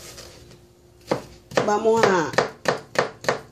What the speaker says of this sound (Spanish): Voy a picar un poquito de cebolla